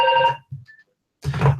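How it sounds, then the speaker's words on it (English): Phone ringing indoors in a home office, a short electronic ringtone burst followed by a pause and another loud ring, close by. "You never know when the phone's going to ring."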